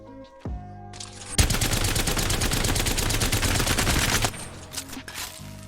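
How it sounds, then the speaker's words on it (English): A Havoc rifle in Apex Legends fires one long, unbroken automatic burst of rapid, loud shots into a wall for about three seconds. Quieter game sounds come before and after the burst. "I'm going to shoot the wall right here without moving my hand"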